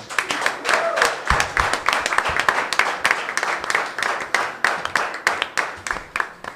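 A church congregation applauds in a full, sustained burst of many hands. The claps are dense and rhythmic, close and loud, and continue without a break for several seconds.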